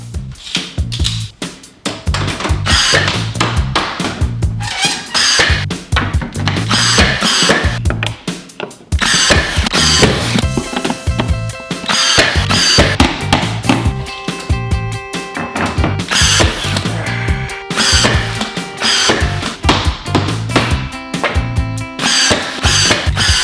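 Trim being fastened with 2-inch nails through 1x3 boards and shiplap into 2x4 framing on a DIY entertainment center, with loud, close, rapid repeated mechanical bursts and clattering tool noise throughout.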